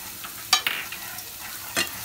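Spices with asafoetida and turmeric stirred in a hot frying pan, a low sizzle with a couple of quick scraping strokes of a spoon.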